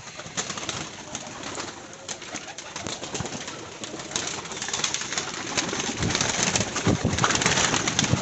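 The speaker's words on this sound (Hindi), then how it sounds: "ये देखे, अब मैं रोटी कबूतरों को देने लगा हूँ" A flock of pigeons coos steadily while feeding on roti scattered in a tray, with dense rustling and fluttering from the crowded birds close by. The sound grows slightly louder toward the end, and no one speaks.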